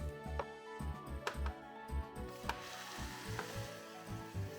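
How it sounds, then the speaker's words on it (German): Okonomiyaki frying in a hot pan, a soft sizzle running under repeated clacks and scrapes of a spatula or utensil on the cooking surface at an uneven rhythm. "Danach einfach wie beim Butatama beide Seiten anbraten"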